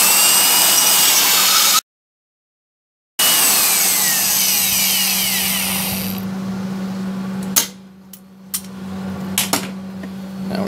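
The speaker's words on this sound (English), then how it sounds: "we'll drill this hole." A drill bores a hole in a metal seat belt bracket for a Fairmont MT19A motorcar, a loud, sustained, close grinding whine broken by a short gap, then winding down into clatters and knocks.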